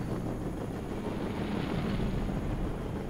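Jet Tengu aircraft flying in the Red Alert 3 video game, a steady, dense engine roar with a low rumbling drone that holds evenly throughout, moderately loud with no talk.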